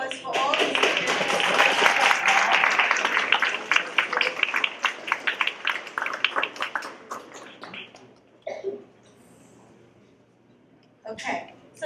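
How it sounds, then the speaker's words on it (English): An audience at a college student leadership awards ceremony claps for the award-winning students. The clapping is a loud, busy burst that thins into scattered claps and then fades out, with voices talking over part of it. "So let's give a round of applause for all the students."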